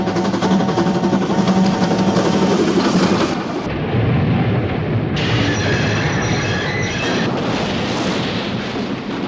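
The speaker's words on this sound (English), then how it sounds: "the train thundered by towards oblivion" A train roars past close by, a loud continuous rumble with rattling wheels and a high metallic squeal rising over it.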